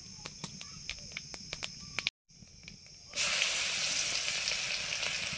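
Nigella seeds dropped into hot mustard oil, cooking for a shrimp and Malabar spinach dish: a brief quiet gap, then a sudden loud, steady sizzle, preceded by a run of sharp ticks and clicks.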